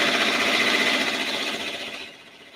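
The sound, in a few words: Brother PR680W embroidery machine stitching a patch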